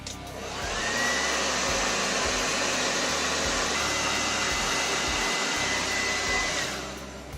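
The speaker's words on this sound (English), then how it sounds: "This purple blow dryer's got some heat." A purple hair dryer roars steadily for several seconds, used to heat a custom fishing rod grip, a constant close-up rush of blowing air that starts and stops cleanly.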